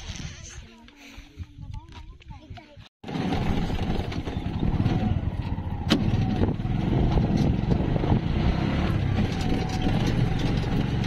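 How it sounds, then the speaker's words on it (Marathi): An auto rickshaw engine drones steadily while riding, loud and close, after a brief stretch of quieter ambience; a voice talks over the start. "आमचा ऑटो."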